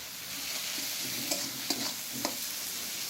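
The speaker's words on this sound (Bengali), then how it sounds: "আবারও আমি এটাকে টমেটো কাঁচা লঙ্কা এই মশলাগুলো দিয়ে ভালো করে ভেজে নেবো এটাকে" Tomato and green chilli frying with spices for a Bengali raw jackfruit and prawn dish, a steady close sizzle with a few sharp scrapes of a spatula in the pan.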